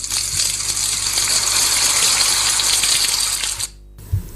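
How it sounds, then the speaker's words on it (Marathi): Rain falls as a loud, dense, steady hiss close by, then cuts off abruptly near the end, leaving a brief quiet with a soft knock. "पहा पहा, पुन्हा पाऊस सुरू झालाय."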